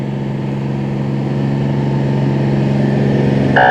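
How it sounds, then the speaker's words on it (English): A depot truck from Ellenburg Center rolls past in a nighttime holiday parade of lights, its steady engine drone filling the scene, with a brighter horn-like tone entering briefly at the end. "I believe that was a Ellenburg depot truck."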